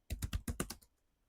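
Quick burst of about six or seven keystrokes on a computer keyboard, close and crisp, tapped in a fast irregular rhythm before fading to quiet.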